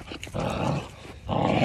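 A pit bull growls low and rough in a short burst, pausing briefly before the growl rises again, close and fairly loud.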